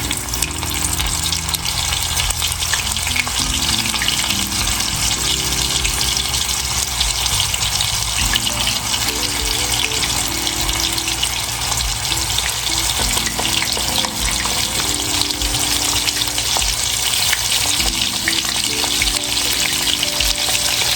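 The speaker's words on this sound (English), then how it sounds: "heat up some avocado oil. This is nice and heated. And we're gonna go in with our onion rings." Onion rings frying in hot avocado oil for a homemade batch, a loud, dense, continuous sizzle and bubbling roar that holds steady throughout, with background music underneath.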